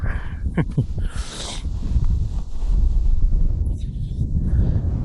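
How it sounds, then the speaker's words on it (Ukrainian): Gusty wind buffets the microphone in a steady low rumble while spinning for pike in April, with a brief hiss of noise early on and no talking. "Вітер спочатку трохи стих, зараз знову дує"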